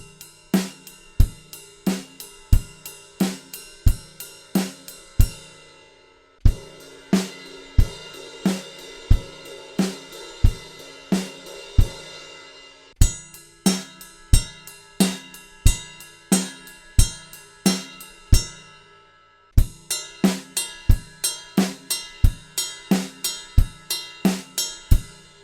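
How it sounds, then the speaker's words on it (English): A simple drum kit beat plays bass drum and snare under a ride cymbal, struck in turn on the bow, the edge and the bell, with short pauses between each pattern. "going through the 4 different techniques on the ride"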